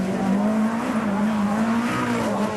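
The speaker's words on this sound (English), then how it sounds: "Australian Rally champion Ross Duncan, of course in this beautiful RS 1800 Escort" A Ford RS 1800 Escort rally car drives past at a night classic rally event at Coffs Harbour, its engine a loud continuous drone held steady throughout, close and alone with no talk.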